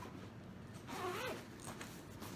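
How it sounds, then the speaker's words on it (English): A zipper on a diaper bag is pulled open in one quick, close rasp over a steady background hiss. "I'm going to show you what is in the first big zipper right back here."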